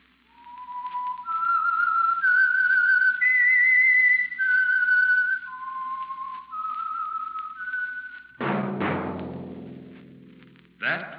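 A clear whistled tune of long, sliding notes, fairly close, followed by a sudden burst of orchestral music, the opening theme of the old-time radio mystery program The Whistler.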